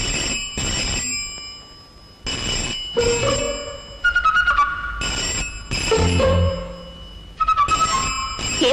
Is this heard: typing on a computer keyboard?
no